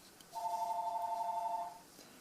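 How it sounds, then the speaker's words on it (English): A telephone rings indoors with one steady electronic tone held for about a second and a half, clear and moderately near over a quiet room. "my telephone is ringing right in time"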